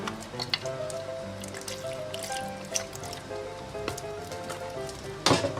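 Fresh milk being poured into a blender jar of blueberries for a smoothie, a steady trickling stream with dripping and light clinks, heard up close and alone.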